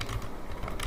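Quick computer keyboard typing comes as a short, close burst of soft clicks over about a second, with no voice.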